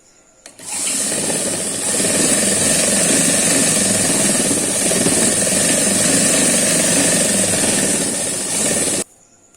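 A sewing machine runs steadily as it stitches the lining of a kurti jacket, a loud, close, continuous mechanical whir that starts abruptly, holds for about eight seconds and stops.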